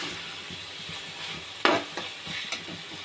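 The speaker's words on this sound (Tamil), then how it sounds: "வெங்காயம், தக்காளி, இஞ்சி, பூண்டு எல்லாம் நல்லா வதங்கிடுச்சு" Onion, tomato, ginger and garlic sauté in a pan for prawn gravy, a soft steady sizzle with a few sharp scraping stirs of a spoon against the pan, close and without talk.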